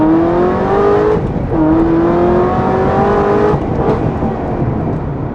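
Twin-turbo Viper street car accelerating hard, its engine roaring loud and close with rising pitch through the gears, a brief dip at each shift before it pulls and climbs again.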